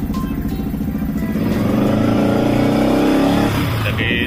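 A modified Yamaha Vixion supermoto motorcycle engine runs close by with a deep, bassy idle that swells into a brief rev, then settles back to a steady rumble.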